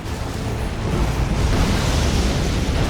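Air strike in Command & Conquer 3: Tiberium Wars blowing up a target, a loud, dense rumbling blast that rolls on for a few seconds as a continuous roar with no voices over it.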